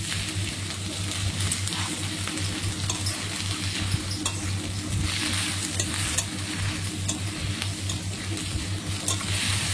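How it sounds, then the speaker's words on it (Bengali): Ginger garlic spice paste fries in oil in a wok for a crab and potato curry. A loud, unbroken sizzle runs under repeated stirring scrapes over a low steady hum, with no talking. "আদা রসুনটা একটু লাল লাল করে ভাজতে হবে, ভালো করে লাল লাল করে ভাজতে হবে"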